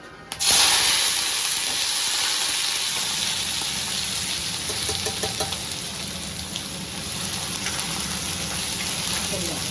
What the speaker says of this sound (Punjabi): ਇਧਰ ਤੜਕਾ ਲਾ ਲੈਣੀ ਆ